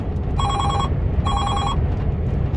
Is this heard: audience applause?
no